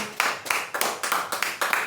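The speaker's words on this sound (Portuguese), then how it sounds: "Aplauda o Senhor, que é digno de toda honra, de todo louvor." Congregation clapping in praise during a church service, a steady run of about seven loud, even claps roughly a quarter second apart, filling the space with no talk over them.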